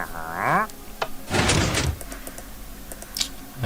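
Doors sliding open and shut inside a video game labyrinth built for a chicken to walk through, heard as a rising mechanical sweep followed by a louder burst of noisy motion and a few sharp clicks, with no talking.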